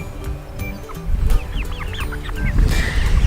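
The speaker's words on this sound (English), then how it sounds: "We're going to check out this other group of meat chickens." Heritage breed meat chickens on a farm cluck and chirp in quick, overlapping calls at close range, with a louder burst of clucking near the end.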